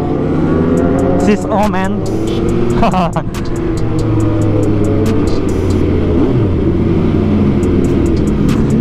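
A sport motorcycle ridden on a city street in Fatmawati, with a loud, steady engine drone that keeps rising and falling as the rider works the throttle, alongside other passing traffic, while people talk over it throughout.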